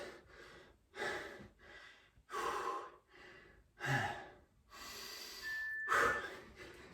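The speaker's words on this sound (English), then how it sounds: "Catching myself breathing a little heavier than I need to be." Heavy, rhythmic breathing from a person doing jumping jacks in a bodyweight workout, with loud gasping inhales and exhales repeating about every second, close to the mic with no talking.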